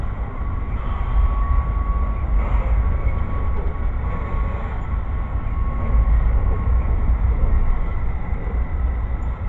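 The Auto Train slows almost to a halt, giving off a loud, continuous, deep rumble that holds steady throughout with no speech over it.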